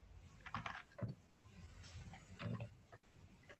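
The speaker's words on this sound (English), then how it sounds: "This is me typing." Typing on a computer keyboard during a live online hackathon judging session, heard as a few faint scattered clicks and taps over low background noise, fairly close.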